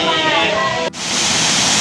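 Waterfall in the courtyard of Wat Sala Loi temple in Korat, a steady broadband rush of falling water that briefly dips before continuing loud and close.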